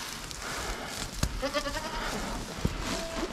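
Sheep and goats, including yearling does, bleat in a straw-bedded pen on a cold morning farm, with several bleats rising over rustling and clatter.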